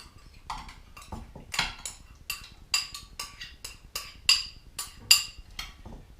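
A pan being handled in a kitchen, with a run of sharp metallic clanks and scraping taps at irregular intervals, close and fairly loud, with no one speaking.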